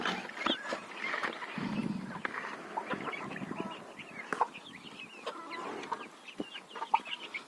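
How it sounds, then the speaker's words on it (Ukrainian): Newly hatched chicks, keets and ducklings peep in a busy, close chorus of high, short cheeps, rising and falling across the stretch with scattered louder calls. "Як добре, коли лупляться курчатка, це цесарятка, качатка."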